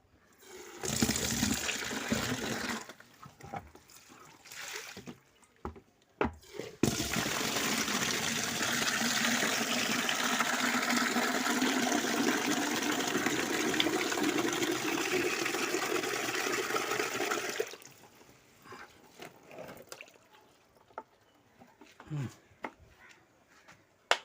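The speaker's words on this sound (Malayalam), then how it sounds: "ഇതിനകത്ത് വെള്ളം ഒഴിക്കണം" Water pours steadily into a container for about eleven seconds, a loud continuous gushing splash, with quieter handling noises before and after.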